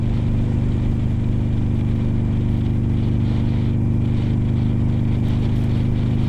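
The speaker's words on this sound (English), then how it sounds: "Engine's just purring." A Buell Ulysses motorcycle with a Sportster-based engine idles steadily with a smooth, low, even rumble that stays constant throughout, no talking.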